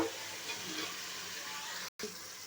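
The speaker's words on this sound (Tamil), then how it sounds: "நல்லா காய்கறி நல்லா கிண்டி விட்டுறணும் நல்லா கிண்டி விட்டுறோம்" Vegetables sizzle and hiss steadily in a hot pan as they are stirred, a continuous close frying noise with a brief dropout near the end.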